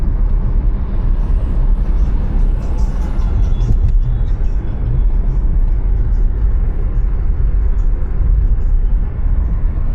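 Loud, steady low road rumble and engine drone from inside a vehicle on a hilly road, continuous for the whole stretch while another vehicle overtakes, with no distinct pass-by.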